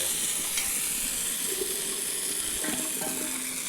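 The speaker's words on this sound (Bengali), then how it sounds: "এইভাবে পাতায় ভাজতে হবে মাছটা।" Small fish fry on a banana leaf in a covered pan, giving a loud, steady hiss and sizzle close up. Faint crackles and pops rise now and then through the whole stretch.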